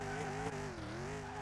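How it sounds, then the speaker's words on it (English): A Chevrolet Bel Air engine revs hard toward its limit in Car Mechanic Simulator, a loud sustained engine roar with rising and falling pitch and a tire-squeal edge, heard alone without speech. "I want to hear this engine go towards its maximum potential."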